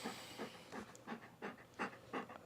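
A dog wearing a bandana pants softly and steadily in quick, even breaths, faint and close by, with no talking.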